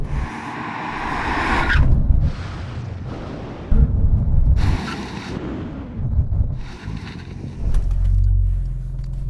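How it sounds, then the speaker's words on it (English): A Porsche 911 Turbo S makes a full emergency stop from 70 mph with heavy ABS, producing loud rushing wind and road roar in surging bursts that fade as the car slows, with a voice briefly heard. "Brake test from 70 miles an hour. When we reach the line, full emergency stop."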